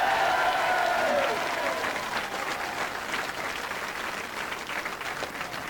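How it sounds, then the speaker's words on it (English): Crowd applause at a Gaelic football celebration for the Sam Maguire Cup after the 1992 All-Ireland final between Donegal and Dublin, sustained dense clapping that starts loud and settles to a steady roar. "another round of applause, ladies and gentlemen"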